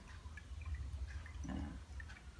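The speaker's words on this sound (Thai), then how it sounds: "แต่ก็มาเทลงถังเลยนะครับนี่ จะเอาไปฉีดเลยนะครับนี่" Liquid poured into a sprayer tank in a durian orchard, a steady low gurgling flow with a brief splashy swell midway, continuous throughout.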